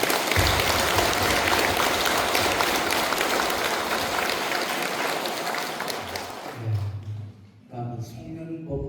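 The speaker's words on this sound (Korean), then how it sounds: "우리 다 같이 박수 한번 다시." Sustained applause from a Buddhist dharma meeting audience, dense and steady for several seconds before tapering off as a voice speaks over the end.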